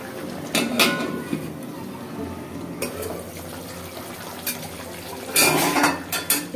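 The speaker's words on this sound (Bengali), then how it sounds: "বাটিটা ধুয়ে জল দিয়ে দিলাম।" A bowl is washed with water in a home kitchen, with clinking dish and utensil knocks and splashing that come in short bursts, some louder clatters near the end, and faint talk in the background.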